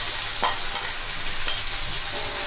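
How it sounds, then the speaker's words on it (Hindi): Onions roasting in a pan with red chilies for poha chivda, a steady close hiss of frying with a few soft stirring scrapes and light taps. "अब इसमें ऐड कर ले प्याज"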